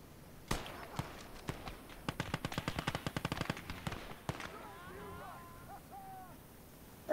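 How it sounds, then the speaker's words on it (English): MG42 machine gun firing in the video game Gates of Hell: Ostfront, a rapid burst of many sharp shots after a few single reports, loud and close, followed by quieter battlefield ambience. "They're just running into MG42."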